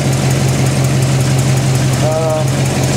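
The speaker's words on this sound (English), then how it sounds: "There's the engine." A Holden VC Commodore engine idles close up, a steady loud hum with a faint knocking pulse, and a brief tonal squeal briefly rises over it.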